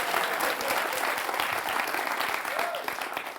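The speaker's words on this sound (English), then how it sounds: "Just thunderous applause." A studio audience claps loudly and continuously, a dense wash of many hands that holds steady and tapers slightly toward the end.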